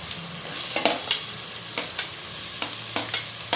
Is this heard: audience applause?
no